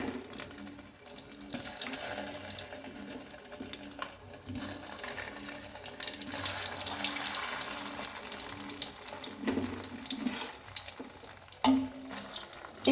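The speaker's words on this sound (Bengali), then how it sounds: "আমি এখন এই আমগুলো দিয়ে দেব সরিষার তেলের মধ্যে।" Mangoes going into hot mustard oil for pickle making, a faint sizzle and bubbling with soft clatter and a few sharper splashy bursts near the end, quiet and close.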